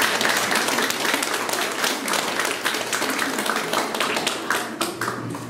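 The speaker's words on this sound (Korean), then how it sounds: "격려 박수 한번 보내주세요" Encouraging applause from guests at an art exhibition in a gallery, a close, crisp burst of many hands clapping steadily for several seconds.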